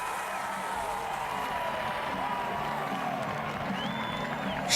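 A stadium crowd at a Loudoun United soccer match against Pittsburgh Riverhounds keeps up a steady, moderately distant roar of cheering and applause, with a faint whistle-like tone near the end.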